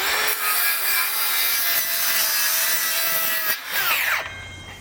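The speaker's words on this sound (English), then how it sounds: "let's fire this up and we'll run it with the FlexVolt and the 20-volt max XR batteries" A DeWALT DCS575 cordless circular saw running on a FlexVolt battery cuts through wood with a loud, steady high-pitched whine that holds for about four seconds, then spins down as the blade clears the board.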